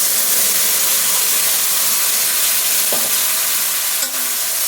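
Dal poured into a hot frying pan sets off a steady, loud sizzle and hiss, with a faint stirring scrape partway through, for a home-cooked vegetarian lentil dish.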